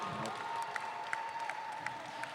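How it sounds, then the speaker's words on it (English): Faint applause for Team Scotland after a roller derby match against Argentina, a thin, distant patter of scattered claps with a few sharper individual claps standing out over a steady humming tone. "Big round of applause for Scotland, who played 2 games in a row."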